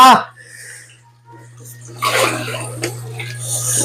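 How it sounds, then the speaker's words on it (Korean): Seawater gushes and splashes as it is tipped out of a container of live small octopuses, a steady, close pour heard under a man's speech. "이 바닷물이가 바로 버리는 거예요"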